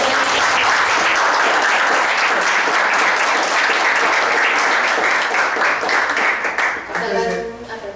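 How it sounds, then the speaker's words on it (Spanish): Loud, sustained audience applause at a philosophy café session, dense clapping that holds steady and then thins and fades near the end as a voice begins. "Vamos a darles un aplauso."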